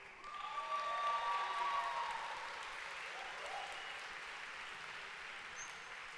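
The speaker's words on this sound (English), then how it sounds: "why don't we have a round of applause for all of our wonderful graduates?" An audience at a college graduation ceremony gives a sustained round of applause for the graduates, a steady, distant wash of clapping that swells briefly at the start and then holds evenly to the end.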